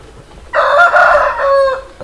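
A rooster crows once nearby in a tribal village in Bastar, India, a loud drawn-out cock-a-doodle-doo lasting over a second against a quiet background.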